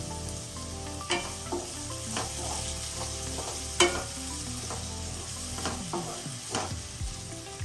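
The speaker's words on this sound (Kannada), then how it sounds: "ಒಂದು 2 ನಿಮಿಷ ಟೊಮೆಟೊ ಸ್ವಲ್ಪ ಸಾಫ್ಟ್ ಆಗೋ ತನಕ ಹುರ್ಕೋಬೇಕು" Tomatoes sauté in a pan for mixed vegetable kurma, giving a constant close sizzle broken by repeated scraping stirs of a spatula at irregular intervals.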